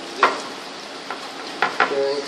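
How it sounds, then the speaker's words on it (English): A spoon stirs a mixture in a pan, with a few distinct knocks and scrapes against the metal over a soft sizzling background. "Somebody give that a stir up"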